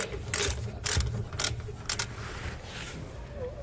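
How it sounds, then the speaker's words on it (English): A ratchet fitted with a 13 mm socket turns a bolt on a 2016 truck while fitting air helper springs, giving a few short bursts of clicking and metal rattle over a low, noisy background. "We're using a 13 millimeter socket for this."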